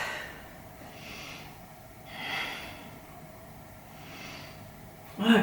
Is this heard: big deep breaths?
yes